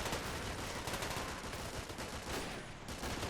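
Rapid PPSh submachine gun bursts in a Men of War World War II battle, a dense continuous crackle of automatic fire layered with other distant gunfire and explosions, no talk.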